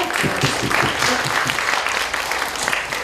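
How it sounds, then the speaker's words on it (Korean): Students at a university English colloquium applaud their professors, producing a sustained wash of many hands clapping at a steady, fairly loud level. "다시 한 번 더 교수님들께 박수 한 번만 드리고"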